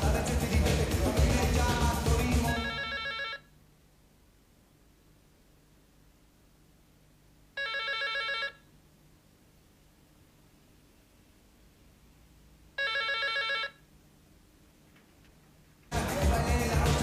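A telephone ringing in short repeated bursts, two rings separated by several seconds of quiet hiss, with louder noise at the start and end.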